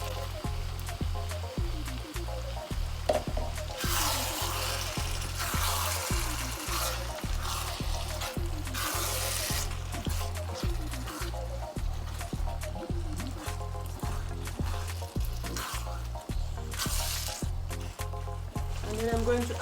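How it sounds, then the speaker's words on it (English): Blended tomatoes hit a hot frying pan with a steady, close sizzle and wet spattering that runs throughout, over a repeating low hum in the background. "The blended tomatoes I'm adding now."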